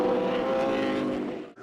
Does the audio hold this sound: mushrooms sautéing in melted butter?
no